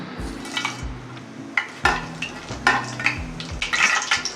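Spices go into hot oil in a pan while cooking vegetable pulao, a soft frying hiss under clinking of a metal spoon against the pan and scattered stirring scrapes, close and fairly loud.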